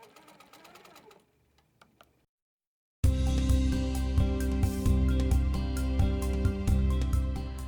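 An HQ Pro-Stitcher longarm quilting machine stitching a swag: after a few faint clicks and a brief silence it starts up, running loud and steady with a rapid, even needle rhythm.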